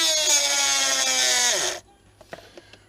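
A Dremel rotary tool whines loudly at high speed for under two seconds, then winds down quickly into silence, followed by a few faint clicks and handling knocks.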